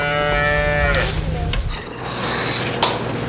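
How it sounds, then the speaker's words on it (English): A cow gives a long, loud, close moo that fades out after about a second, followed by scraping, rubbing noises and faint background sounds. "Let us now sing the praise of the overlooked, overworked cow."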